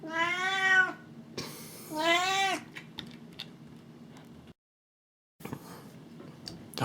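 A pet cat gives two clear, drawn-out meows in quick succession close by, followed by faint rustling, a brief silence and soft handling noises.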